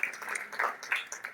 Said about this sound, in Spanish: Den otro fuerte aplauso que es para nuestro Dios.